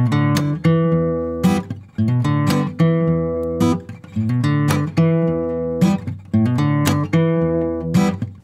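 A guitar riff from a blues lesson, played with backhand strums on the top two strings and a percussive thumb click. Ringing chords repeat in a steady rhythm, with sharp clicks between them, close and loud, with no talking.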